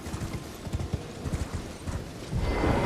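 Horse hooves clip-clop at a steady trotting rhythm in the Elden Ring video game on PS4, close and clear, with a rising rumble near the end.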